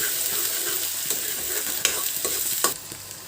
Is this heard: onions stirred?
yes